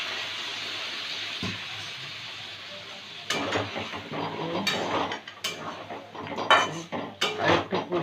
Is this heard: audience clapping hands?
no